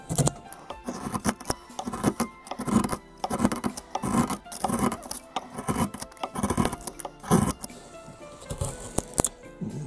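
Radius gouge carving Amur cork tree wood, giving a run of short rasping, scraping cuts in an irregular rhythm, close and fairly clear with no talk over it.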